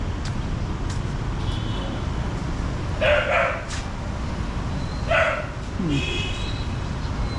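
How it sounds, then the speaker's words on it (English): A dog barks a few times at a distance over steady outdoor street noise in Saigon, Vietnam, with short yips spaced a couple of seconds apart. "And a dog."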